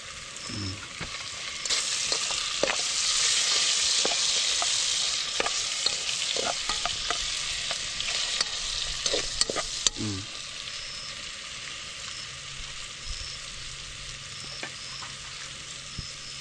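Onion and garlic sautéing for a mung bean stew, a steady close sizzle of frying with repeated stirring scrapes and clinks throughout, louder in the first half and no talking.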